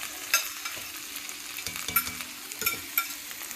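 Leeks sauté in a pan, sizzling steadily while a spoon stirs and scrapes them in repeated strokes, close and fairly quiet, with no voices.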